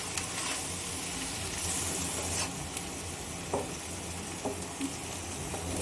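Spinach and mixed vegetables cooking in a pan with fish oil, a soft steady sizzle and hiss with a few scattered stirring clicks, close but fairly quiet.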